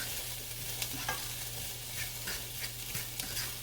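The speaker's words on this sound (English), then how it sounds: "go ahead and stir that around" Chicken Alfredo ingredients sizzle in a pan under a steady hiss of frying, with soft scraping taps from stirring scattered through, close up and moderately quiet with no voices.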